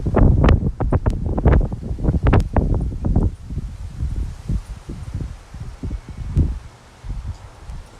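Wind gusts through a raised-bed fall garden, buffeting the microphone in loud rumbling bursts that ease into softer rustling and quieter breezy noise.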